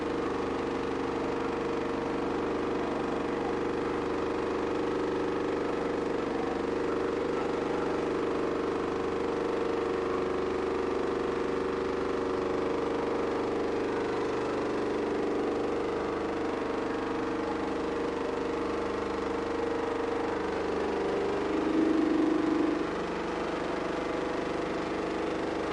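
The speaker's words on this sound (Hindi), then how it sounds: "ये तो डीजल इंजन वाला है, इसको मैं अपने लाइव डेमो करके दिखा रहा हूँ।" A diesel engine drives a sugarcane juice machine with a steady, continuous mid-low drone and a constant hum from start to finish, holding an even loudness, with one brief swell near the end.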